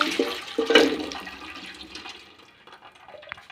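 Water drained from cooked jackfruit pours in a brief rushing splash that gradually fades to faint trickling.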